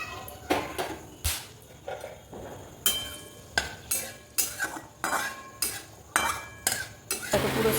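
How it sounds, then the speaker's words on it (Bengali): Chicken is stirred hard in a pan with a metal spoon, a run of sharp, rhythmic scraping clatters about once a second, with a faint sizzle underneath. The pan is spiced with cloves and cardamom, and there is no talk. "চিকেনটা কষে নেব এবার।"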